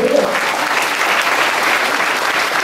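An audience at a Buddhist monastery talk gives loud, dense applause that holds steady for a couple of seconds.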